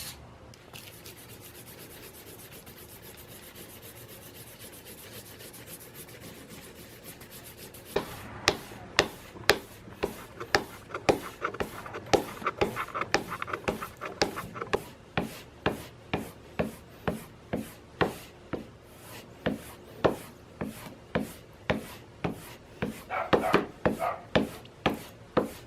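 Steel blade from a Stanley Corsair plane rubbed back and forth on waterstones, starting with a soft continuous scrape, then turning into a brisk run of sharp rhythmic gritty strokes, close and fairly loud with no talk.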